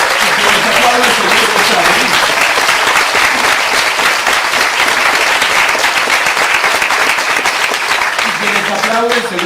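A lecture audience applauds, loud continuous clapping that holds steady throughout with a faint murmur of voices underneath.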